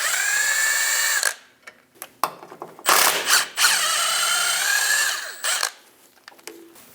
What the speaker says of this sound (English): Using a 13mm socket, remove the 2 bolts for the bottom of the shock.